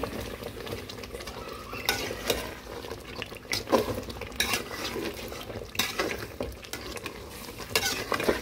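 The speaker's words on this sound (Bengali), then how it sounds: "এখন দেখবো এটা ভালোভাবে কষিয়ে নিতেছি" Spiced meat being stirred and sautéed in a pan: recurring scraping strokes of a spoon against metal over a soft, continuous sizzle, close by.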